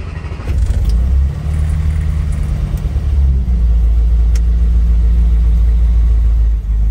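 A car engine, started with the choke pulled out and the gearbox in neutral, rumbles loudly and close, with a low steady idle and a brief rise and settle early on, then runs on evenly without talk.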